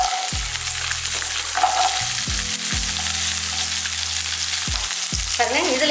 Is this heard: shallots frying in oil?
yes